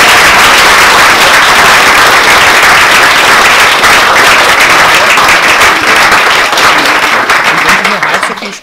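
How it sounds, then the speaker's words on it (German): Audience applause after a lecture on statistics and how it is used and misused, a dense, loud, steady wash of many hands clapping that carries on throughout and tapers slightly at the end. "Ich sage mal einen herzlichen Applaus noch."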